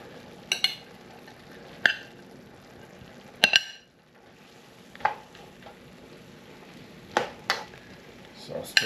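Pre-cooked ground beef being stirred into goulash in a pot, giving scattered utensil clinks and scrapes at irregular intervals over a faint sizzle, with quiet gaps between strokes.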